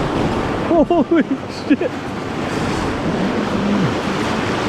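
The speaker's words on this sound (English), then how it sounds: "This is the Class 4 rapid coming out of Walker Lake on the Kobuk River." A Class 4 rapid below Walker Lake on the Kobuk River in Alaska rushes with constant broadband water noise, and a paddler's short shouted exclamation breaks in over it near the start.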